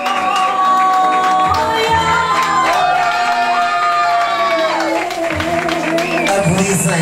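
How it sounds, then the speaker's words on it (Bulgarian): A pageant crowd applauds and cheers for a contestant, steady loud clapping and whoops under booming stage music that runs the whole time. "Аплодисменти за мис Марая"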